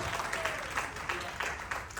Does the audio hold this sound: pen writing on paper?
no